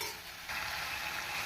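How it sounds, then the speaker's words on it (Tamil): Brinjal being stirred into a pan of village-style brinjal kulambu with softened tomatoes, a steady close sizzle and scraping stir that grows a little louder partway through, with no voices. "கத்திரிக்காய் போட்டு நாம் நன்றாக கிளறி விட்டு"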